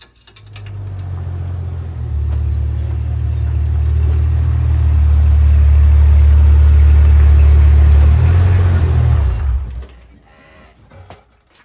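A Jeep TJ fitted with new one-ton crossover steering pulls away on a test drive. Its engine makes a loud, deep rumble that builds and holds for several seconds, then fades out near the end.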